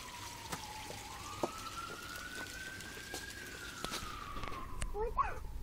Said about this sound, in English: Sounds like an ambulance. It's a fire truck.